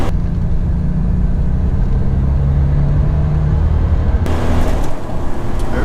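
A 1987 Buick Regal Turbo Limited roars loudly at close range under hard acceleration, a steady heavy engine drone that shifts abruptly near the end as the car takes off.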